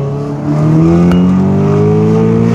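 An Audi RS6 with a stage 2 tune accelerates hard, its engine note climbing steadily in pitch as it revs, loud and close from inside the car for a few seconds.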